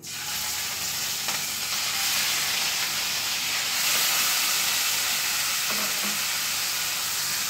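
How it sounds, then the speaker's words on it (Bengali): Prawns sizzle loudly in hot oil, a steady bright crackling hiss that holds throughout with slight surges. "গরম হয়ে গেছে, তেলের মধ্যে আমি চিংড়ি মাছটা দিয়ে দিচ্ছি।"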